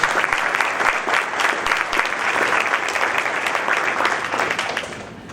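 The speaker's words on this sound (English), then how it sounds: "Let's give him another round of applause." A room full of people at a senior athletic breakfast gives a round of applause, loud, dense clapping that carries on steadily and tapers slightly at the end.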